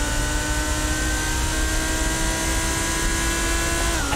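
Race car engine in the iRacing sim at the 24 Hours of Daytona, a steady loud drone holding pitch for several seconds, then a quick drop near the end as it shifts up.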